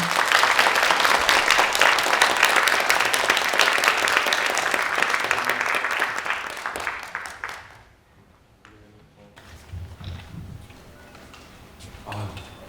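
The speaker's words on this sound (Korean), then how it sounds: "박수로 맞이해 주시길 바라겠습니다" Applause from a lecture audience welcomes a humanities speaker: loud sustained clapping for about seven seconds that fades out, then quieter room sounds with a few scattered noises.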